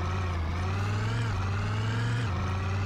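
A car engine drives in the zombie survival game Project Zomboid, a steady mid-pitched drone that holds constant and then shifts pitch slightly partway through, with no talking.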